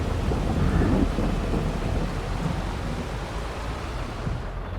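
Thunderstorm in Farming Simulator 22 over a boggy field near a gate: a loud, continuous roar of heavy rain with deep rumbling thunder, strongest early and holding steady throughout.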